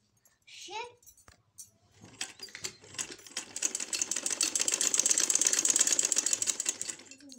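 Sewing machine stitching a ladies' half collar starts after a short voice and builds into a close, fast rattling run that grows louder and steadier before easing off.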